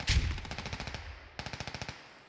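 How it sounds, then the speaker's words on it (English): Rapid bursts of automatic gunfire from a military video game, two quick volleys of evenly spaced shots separated by a brief pause, fairly loud and close with no talking. "Gunshots rain out."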